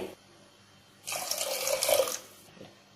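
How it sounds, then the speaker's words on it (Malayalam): Water poured into a pot of Kerala-style dried cowpea curry, a single steady splashing pour lasting about a second, close and alone in a quiet kitchen. "അതുകൊണ്ടാണ് ഞാനിപ്പോ വെള്ളം ഒഴിച്ചു കൊടുക്കുന്നത്"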